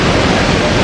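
Dunhinda Waterfalls, a 210-foot waterfall near Badulla, Sri Lanka, producing a loud, dense and steady roar of falling water in a brief burst with no break.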